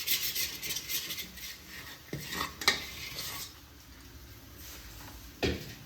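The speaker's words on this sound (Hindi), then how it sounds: "अब इसको भी लो टू मीडियम फ्लेम पे भूनूंगी।" A fenugreek seed mixture for laddus being roasted in a pan over low to medium flame, with a spoon scraping and clinking against the metal in irregular strokes and a faint sizzle beneath.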